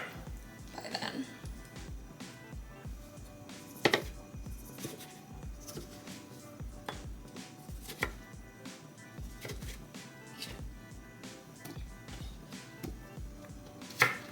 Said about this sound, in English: Tomatoes are kind of hard for me to cut.